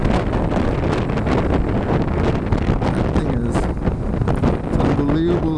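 Heavy wind buffeting roars continuously over the microphone while riding a BMW G310GS motorcycle, a dense rushing noise that masks most other sound.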